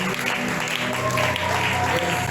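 A church congregation applauds as a visiting pastor walks up, steady clapping filling the room from start to finish with a broad crowd wash and some voices mixed in.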